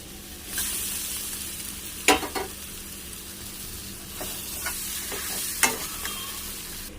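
Pointed gourd pieces sizzle in spiced oil alongside potatoes in a pan, a steady close fry with several sharp scraping stirs of a spatula at irregular intervals.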